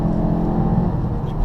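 A 2015 Mazda CX-3 engine revs steadily after a downshift, a continuous close and moderately loud drone with no talking over it.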